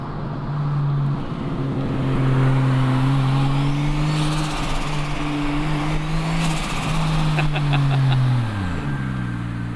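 A 2JZ-swapped 500HP Toyota Altezza engine revs loud and close, a steady throaty drone that climbs and holds, then falls away near the end as the revs drop.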